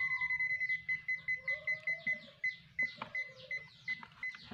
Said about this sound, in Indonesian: semakin besar arusnya maka bunyi bip-bipnya semakin cepat